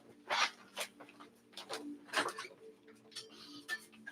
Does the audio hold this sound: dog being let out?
yes